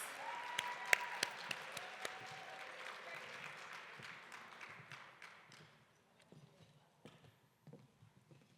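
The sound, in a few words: audience applause for the authors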